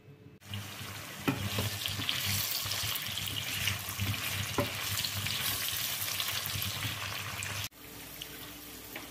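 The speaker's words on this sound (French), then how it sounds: "fais donc revenir les carottes dans un peu d'huile comme ça là pour réduire l'effet sucré de la carotte" Carrots frying in a little oil in a pan give a steady, close sizzle with occasional stirring clicks, cutting off abruptly near the end with no voices.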